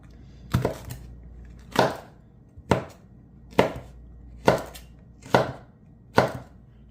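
A knife julienning a jalapeno on a cutting board: seven sharp, evenly spaced chops land close and clear, about one per second, with nothing else audible.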